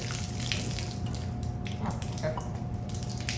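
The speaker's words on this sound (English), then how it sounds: "So there's all that water draining down." Water drains steadily from a broken pipe in a basement, a constant rushing, splashing wash with faint drips, heard alone without talk.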